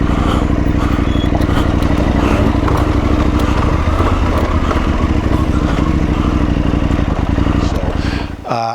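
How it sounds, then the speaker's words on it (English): A KTM motorcycle engine rumbles loudly and continuously with a throbbing, uneven burble, wind and clatter mixed in, as if coasting downhill on engine braking in the Rocky Mountains. "I can tell you that the engine braking on this thing is superb."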